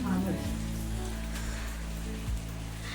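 Steady monsoon rain hisses on surfaces in a Konkan village where jackfruit curry is cooked on a wood-fired clay stove, a constant even wash with a low hum underneath and voices speaking faintly.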